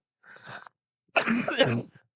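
A person coughs twice: a short, quieter first burst followed by a louder, longer rasping cough after a brief pause, close and alone.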